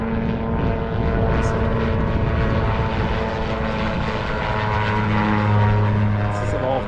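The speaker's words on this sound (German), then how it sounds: "Es ist aber auch kein Heli gewesen oder die Bergwacht, sondern hier so ein Ausflugshelikopter." Sightseeing helicopter passing overhead in the Alpine mountains along a high hiking trail, a loud steady rotor and engine drone that holds throughout and swells toward the end as it comes closest.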